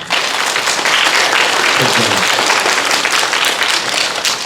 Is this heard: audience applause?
yes